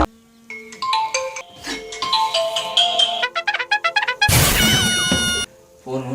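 A mobile phone ringtone plays loudly as a bright, repeating electronic melody with quick staccato notes, then a denser burst of tones before stopping; it sounds alone, close by, amid a village comedy scene.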